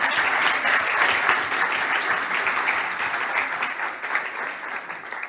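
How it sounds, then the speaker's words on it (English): Audience applause after a startup pitch on a female founders stage. Dense, steady clapping from a crowd holds at a strong level for a few seconds, then tapers slightly. "applause again for you and your great pitch"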